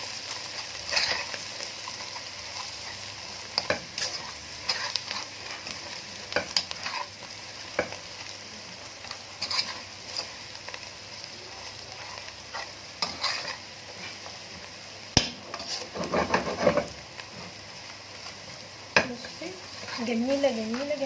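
Spoon scraping and stirring cabbage stuffing with cumin and chicken broth in a pan, with soft sizzling underneath and scattered clinks against the pan over a steady, fairly quiet background.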